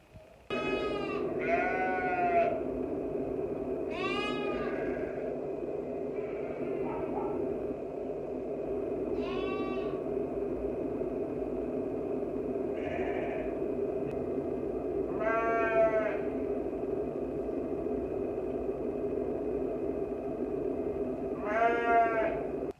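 Sheep and a lamb on a farm during lambing bleat repeatedly, several separate calls spread evenly over a steady low background hum, fairly close, no talk.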